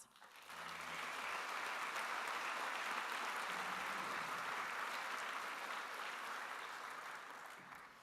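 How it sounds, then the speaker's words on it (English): Sustained applause from a commencement audience welcoming guests at the 2024 Humphrey School ceremony, a dense, even wash of many hands clapping that swells quickly and holds steady, slightly distant, before easing off. "Please give our guests a round of applause."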